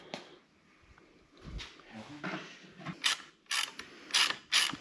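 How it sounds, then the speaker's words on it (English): A bolt spun by hand during a handlebar install on a 1962 Harley-Davidson Panhead motorcycle, giving a few bursts of close metallic ratcheting and whirring clicks in a quiet garage. "that bolt will spin."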